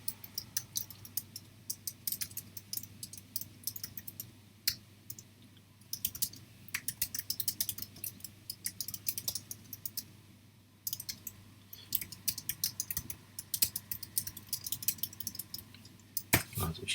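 Computer keyboard typing out a forum post, bursts of quick, light key clicks with short pauses between runs, close and fairly quiet.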